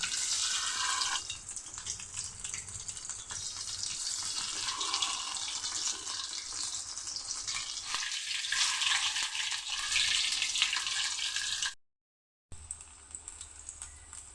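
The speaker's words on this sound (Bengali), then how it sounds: "এখন এগুলি ভেজে নেব। কড়াতে দিয়ে দিচ্ছি" Potatoes fry in a kadai with a steady, bright hiss of sizzling oil that rises and falls slightly and cuts out abruptly near the end, with no voices.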